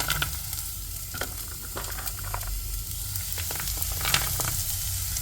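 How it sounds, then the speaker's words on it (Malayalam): Carrots fry in a pan for fried rice, giving a constant close sizzle with scattered clicks and scrapes from stirring, and no voices. "ക്യാരറ്റ് ഇട്ടിട്ടുണ്ട് കേട്ടോ. അപ്പോൾ ക്യാരറ്റ് നന്നായിട്ടൊന്ന് നമ്മൾ ഇളക്കി കൊടുക്കണം."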